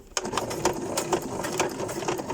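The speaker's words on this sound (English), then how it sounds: "I'm going to bring the sewing machine back in and I'm going to sew this ribbon onto" A sewing machine runs a straight stitch as it sews ribbon onto a playing card, its needle chattering in a quick, even rhythm close by, with no talking.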